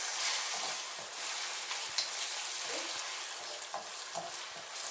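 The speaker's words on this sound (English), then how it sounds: "And then mix it up, make sure it's well mixed." Food is stirred and mixed in a pan over a soft, continuous sizzle, with scattered scraping and clinking utensil sounds, close and fairly quiet with no talking.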